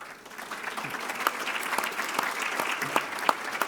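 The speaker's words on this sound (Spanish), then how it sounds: "Gracias por ese aplauso espontáneo." Spontaneous audience applause at a conference event in Chile, heard as a steady wash of many hands clapping that holds evenly for the whole stretch, moderately loud and somewhat distant, with no talk over it.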